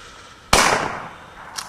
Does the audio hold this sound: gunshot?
yes